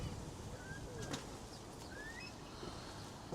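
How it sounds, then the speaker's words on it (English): Birds around garden bird feeders, faint chirps and short calls over a steady outdoor hiss, with a soft flutter of wings near the start. "And Jess has noticed that I've put a lot of bird feeders out"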